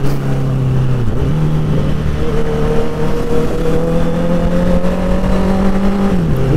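A Honda CBR650F inline-four motorcycle engine revs up smoothly, pitch climbing and holding steady before dropping near the end, loud and close with no talking.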